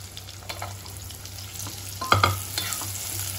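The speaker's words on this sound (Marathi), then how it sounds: "कांदा आता आपल्याला चांगला तेलामध्ये परतून घ्यायचा आहे" Onion sizzles as it fries in oil in a pan, with soft stirring scrapes and a few sharper clinks against a steady hiss.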